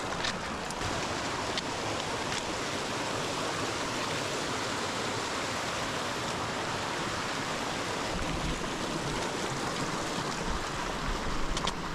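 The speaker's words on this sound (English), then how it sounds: "The main creek has running water." Main creek in remote Clearwater Country backcountry, its running water a continuous broadband rush and gurgle, steady and fairly close, with no voices.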